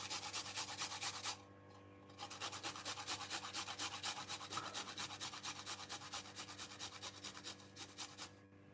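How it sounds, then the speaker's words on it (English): A small piece of fresh ginger is rubbed quickly against a grater in rapid rhythmic scraping strokes, close and clear, with a short pause near the start before the grating resumes steadily. "we're just gonna grate a little piece of a ginger, not much"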